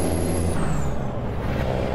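Steady, loud drone of a Cummins N14 truck engine in American Truck Simulator, heard from the cab with the windows down, with a high tonal whine that slides downward early on over dense low rumble and no talking.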